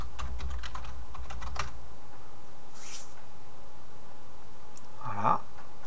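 Keys on a computer keyboard clatter in a quick burst of typing as an article title is entered, followed by a pause and a single faint click, close and clear in a quiet room.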